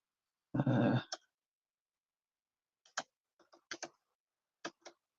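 Sparse, quiet clicks from a computer keyboard being typed on in a still room, following a short throat-clearing sound at the start.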